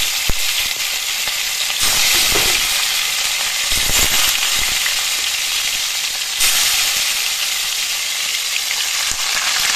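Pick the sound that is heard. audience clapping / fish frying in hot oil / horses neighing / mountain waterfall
fish frying in hot oil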